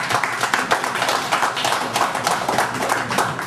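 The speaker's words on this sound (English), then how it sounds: "Let's give her a hand of applause." Applause at a convention for a national executive, lively rhythmic clapping from a gathered crowd with distinct hand claps pulsing throughout a short burst.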